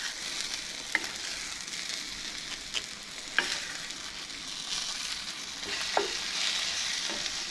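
Eggs and squash sizzle in a hot cast iron pan, a steady close hiss broken by occasional scrapes and clicks of stirring, with no talking.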